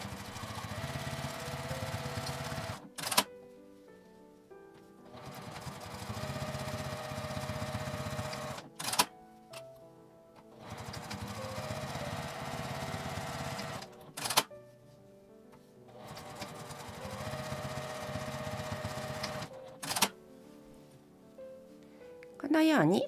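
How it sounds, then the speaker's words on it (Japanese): A sewing machine stitching the edge of a bellows-style zippered coin purse, running in four sustained whirring bursts separated by short pauses with occasional clicks. "ここは蛇腹の端になるので縦に端ミシンをかけます。"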